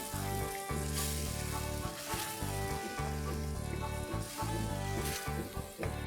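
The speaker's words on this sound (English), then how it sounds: "A quick stir and boil this on high flame for 30 to 40 seconds" Honey chilli sauce thickened with cornstarch bubbling and sizzling in a pan on a high flame, a continuous close crackle with a steady background hum and occasional stirring.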